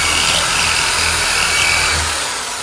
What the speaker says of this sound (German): Dann bohren wir jetzt live bei Flux FM Lauschrausch